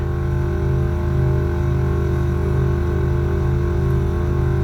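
An air suspension compressor in a trunk hardline setup on a Golf MK7.5 runs steadily while building pressure toward 170 psi, a loud, constant pulsing mechanical hum with no pauses throughout.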